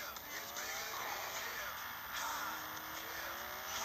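A fast car in the video game Vegas Gangster, its engine droning steadily with rising revs and shifting pitch, while faint voices come and go over it.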